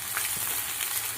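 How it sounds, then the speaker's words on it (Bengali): Onion and cauliflower fry in a pan with a steady, close hiss of sizzling oil, continuous and alone without any voices. "পেঁয়াজটা হালকা করে ভেজে নিয়ে এবার আমি ফুলকপি দিয়ে দেবো"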